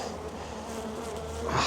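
Honey bees buzz in a dense, continuous drone inside a hive, close by and steady, growing slightly louder at the end.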